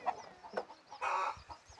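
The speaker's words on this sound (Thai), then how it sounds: "อันนี้จะเป็นลกเป็ดลกไก่ของข้าเจ้าพี่น้องเลย" Chickens clucking at a rural home in northern Laos, a few short close clucks and calls in quick irregular bursts, with no talking.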